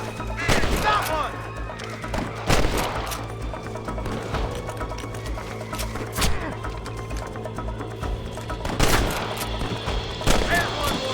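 Gunfire in a Western shooting game, with repeated loud shots spread across the scene, some near and some farther off, along with game noise and voices.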